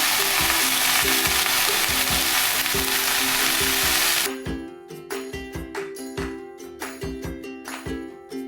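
Potatoes tumble into a pan with a loud burst of frying sizzle, then a spoon stirs them in steady scraping strokes with light metallic clinks against the pan. The dish is drumstick (sajne danta) with potato and poppy seed.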